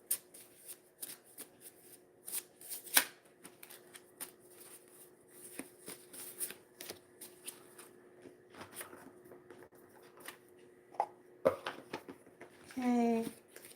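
Trading code cards are pulled out and handled close up, giving soft, intermittent papery shuffles and flicks with scattered quiet pauses.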